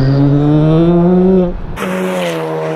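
Volkswagen Golf GTI exhaust revving hard above 5000 rpm, a loud, steady engine drone with a strong rising pitch that briefly cuts out, as on a gear change, before picking up again close by.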